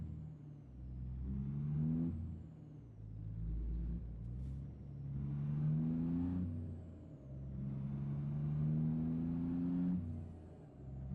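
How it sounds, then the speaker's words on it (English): Semi truck diesel engine revved in neutral, deep rumbling surges rising and falling in three long pulls, steady and fairly distant, no talking. "putting in neutral and revving the engine is not necessarily the wisest thing to do"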